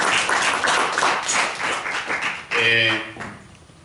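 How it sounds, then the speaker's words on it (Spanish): A church congregation breaks into applause, a dense burst of clapping that swells and then fades, with a voice rising over it partway through. "Le podemos dar un aplauso al Señor Jesús por la vida de hermano Tranqui."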